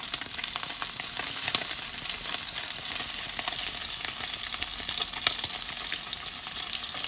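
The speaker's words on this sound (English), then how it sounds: "I'm going to turn these meatballs over." Meatballs fry in a pan with a steady, bright sizzle throughout, broken by a few soft scrapes and clicks as they are turned over, close and with no one speaking.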